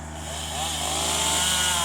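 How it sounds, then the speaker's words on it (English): A chainsaw drones nearby, its engine pitch rising and wavering as it bites into storm-damaged oak, loud and continuous. "Chainsaws."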